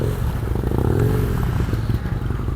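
Big BMW and Kawasaki motorcycles and large scooters idle and rev nearby at a BMW breakfast ride in the Philippines, a loud continuous engine rumble with clattering texture and a rising pitch sweep.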